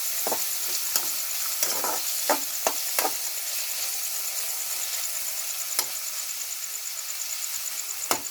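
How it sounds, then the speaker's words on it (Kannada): Chopped tomatoes frying in a hot pan, a soft steady sizzle broken by several sharp clacks of a spoon stirring and scraping, close and fairly quiet. "ಸೊ ಇವಾಗ ಟೊಮೊಟೊ ಹಾಕೊಳ್ತಾ ಇದ್ದೀನಿ. ಚೆನ್ನಾಗಿ ಕಲಿಸ್ಕೋಬೇಕು."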